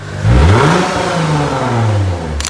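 A Lexus IS car engine revs up sharply through an axle-back exhaust, then holds a deep, throaty exhaust drone that slowly falls away, loud and close.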